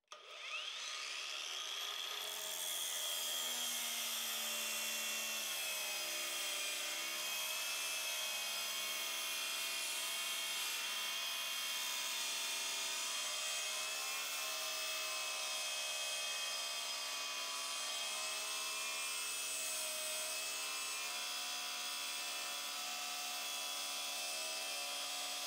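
A Parkside PWSAP 40-Li 40V cordless angle grinder cuts through 8 mm thick steel with a loud, steady high-pitched whine and grinding screech, close and continuous throughout with no voices.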